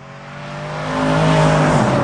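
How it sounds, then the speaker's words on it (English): A Mercedes-AMG engine revs up, its loud, rising growl swelling over about two seconds and holding near full volume, close to the listener with no talking. "The sound of the engine, somebody who hears that has to know, wow, that was an AMG."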